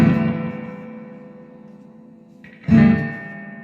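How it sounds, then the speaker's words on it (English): An Electra EP-250 analog delay with a newly replaced spring reverb tank repeats a played tone: the sound decays slowly through echoing repeats before a second strong note rings out, with no talking. "Little delay action."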